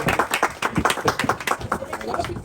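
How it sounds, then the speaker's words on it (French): A small group of people clapping at a birthday party, dense quick claps close by, with voices mixed in. "On acclame."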